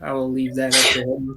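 A single sharp sneeze bursts out between spoken words, loud and close, with talking before and after it.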